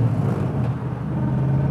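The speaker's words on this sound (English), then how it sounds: "it would dump the exhaust right out of the engine without going through a muffler" A 1920s Le Mans Speedster car running with its exhaust cutout open, a loud, close, steady low engine drone with a strong hum and rough rumble, no talking over it.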